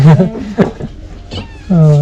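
A cat gives several close, loud meows in quick succession, with a short gap before a final drawn-out call.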